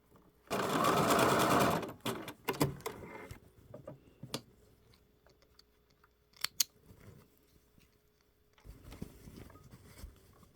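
A sewing machine stitches an invisible zipper with a short, loud burst of rapid needle whirring. Quieter clicks and handling taps follow, then a second, fainter run of stitching near the end.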